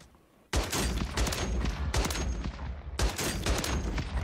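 An RPK light machine gun in Warzone 3 on Rebirth Island fires loud, dense bursts of rapid shots, three long volleys separated by brief pauses, with no talking.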